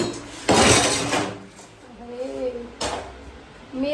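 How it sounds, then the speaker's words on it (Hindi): Stacked household dishes and metal pots clatter as they are gathered for washing, in two loud, rattling bursts with quieter clinks between, while someone talks nearby. "अभी भी कम नहीं है, बर्तन है, दिखाती हूँ। बर्तन धोने हैं मुझे।"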